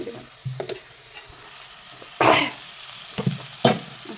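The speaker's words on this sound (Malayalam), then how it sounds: "അമ്മ കുറച്ചൊന്ന് ഇളക്കി തരാലോ വൃത്തിക്ക്" Food being stirred in a frying pan, with a few scraping strokes and a louder sizzling burst over a quiet background, close-up and uneven in rhythm.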